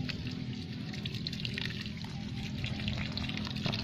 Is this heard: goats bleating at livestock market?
no